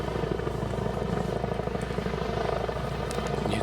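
A heavy-lift crane helicopter working over a stream bank restoration site near a road makes a loud, steady, rapid rotor thumping over a continuous engine drone. No voices are heard.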